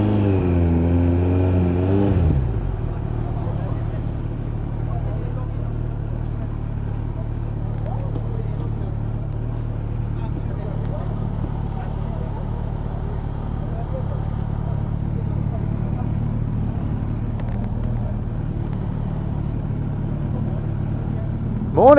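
A GTR motorcycle engine idles steadily and close by with a deep, even rumble as the bike is ridden into its usual parking spot, following a short rising rev at the very start.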